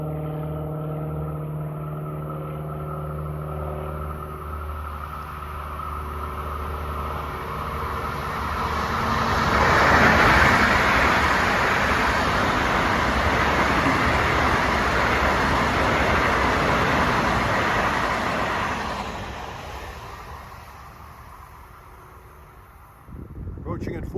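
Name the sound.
LIRR commuter train passing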